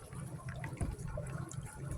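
Water runs steadily from a tap into a sink as food is rinsed by hand at a seaside picnic, a continuous close splashing wash with small bumps and clatter, no voices.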